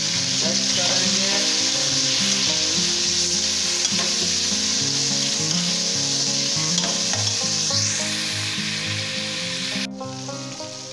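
Fried onions with tomatoes sizzle loudly and steadily in a pan for mutton and potato curry, with stirring scrapes throughout, close and dense.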